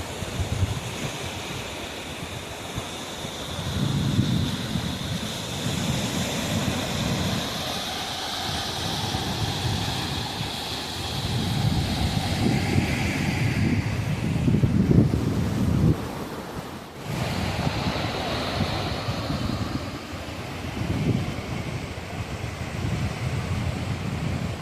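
Sea waves wash onto the beach at Umm Al Quwain, with a steady roll of surf and repeated swells under constant wind buffeting the microphone, and no talking.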